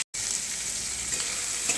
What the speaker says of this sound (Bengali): আমি এবারে এগুলো সব দিয়ে আমি ফোড়ন দিয়ে দিলাম, দিয়ে ভালো করে ভাজবো।